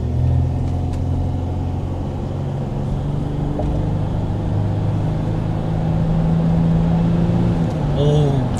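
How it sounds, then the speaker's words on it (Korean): A Kia Mohave 4WD QV300 SUV at high speed, heard from inside as a steady loud engine and road rumble with a droning low hum throughout. "예, 고속 달려볼게요."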